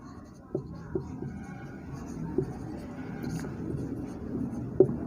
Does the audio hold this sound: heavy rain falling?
no